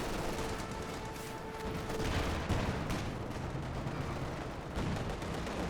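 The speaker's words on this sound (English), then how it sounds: "we got white phosphorus coming on in" White phosphorus artillery strike in Company of Heroes 2, heavy shell impacts and crackling fire rolling together into a steady, loud barrage of booms and bursts without pause.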